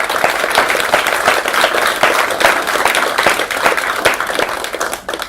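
A room full of people applauds for several seconds, with many hands clapping loudly and densely and no one speaking.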